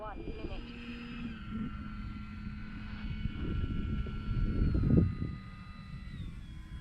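A radio-controlled model plane drones steadily overhead, its motor whine rising and falling as it hovers low over the ground, with a person talking nearby.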